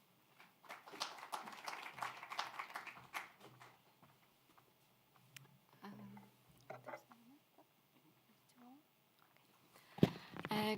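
A conference audience at an e-health digital-technology event claps in a scattered burst that fades into near silence, then a few claps pick up again at the end.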